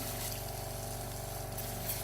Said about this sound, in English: I'll just clean this out by rinsing water through it.